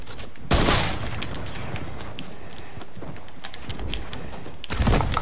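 Rapid bursts of gunfire in an online shooter duos match, loud and dense, with heavier blasts at the start and near the end over a steady wash of battle noise.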